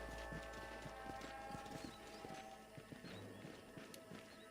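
Horses' hooves clip-clop in a steady rhythm in the Red Dead Redemption game, fairly close and continuous, with an occasional snort or whinny over faint ambient background.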